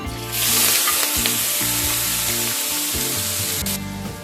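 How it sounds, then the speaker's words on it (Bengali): Prawns frying in a pan with turmeric and salt, a loud, dense, continuous sizzle that swells as they hit the oil and stays strong throughout, heard up close. "চিংড়িটাকে প্রায় 30 থেকে 45 সেকেন্ড সময় নিয়ে একটু ভেজে নেব।"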